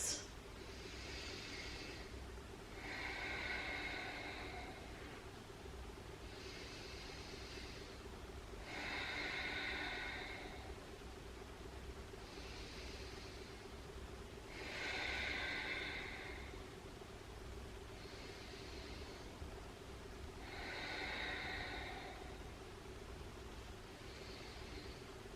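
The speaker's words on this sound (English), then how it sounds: "I'm going to breathe here for 5 breaths." Slow, deep breaths during a yoga stretch, each inhale and exhale a soft airy rush spaced several seconds apart, about five cycles over a faint steady hum, close to the microphone with no talking.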